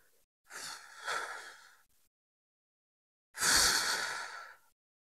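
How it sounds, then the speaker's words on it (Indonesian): Two breathy whistling exhales through the mouth, the first softer and wavering, the second stronger and steadier after a silent pause, close and quiet with no talk. "keluarkan napas saudara dari mulut dengan suara seperti bersiul"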